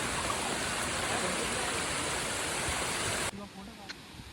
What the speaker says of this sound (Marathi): हे धबधब्याचा वरचा सीन आहे पूर्ण